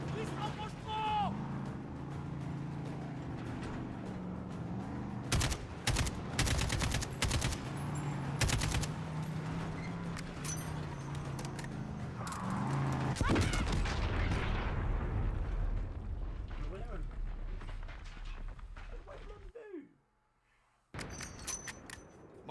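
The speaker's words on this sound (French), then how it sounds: "Tire, Alex, tire!" Intense gunfire in the Call of Duty Modern Warfare mission Route de la Mort, with sustained automatic bursts and heavy shots over a vehicle's rumble, loud and close, while French-speaking voices shout orders, ending in a brief drop to silence.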